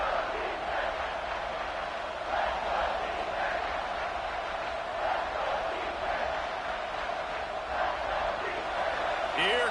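Steady roar of a home crowd cheering at a college football game, Oklahoma against Arkansas, as the defense faces third down; a broad, sustained wash of noise with swelling surges, and an announcer talking over it throughout.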